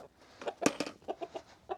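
Hens on a farm cluck in short repeated bursts, several close calls in an irregular rhythm with one louder squawk early on, no talking over them.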